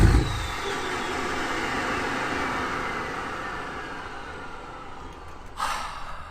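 A 2022 Chevy High Country Duramax diesel truck engine running, a steady broadband rumble and whoosh that fades gradually, close, with a brief noise burst near the end and no talk.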